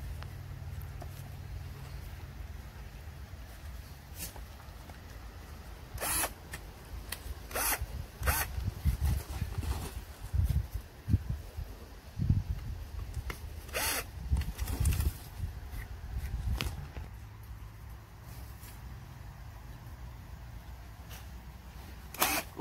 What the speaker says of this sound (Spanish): ahorita vamos a empezar a quitarle los tornillos para quitarle las estacas